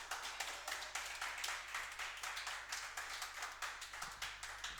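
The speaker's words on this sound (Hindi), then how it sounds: "इसके लिए सारे विद्यार्थी ताली बजाइए" Group of students clapping for a prize winner in a classroom, a steady run of dense, even claps lasting several seconds at moderate volume, no voices.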